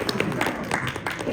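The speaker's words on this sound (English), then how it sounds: "You won't clap for me?" Scattered audience clapping at a school education talk, a brief, uneven patter of hands that sounds close and moderately loud.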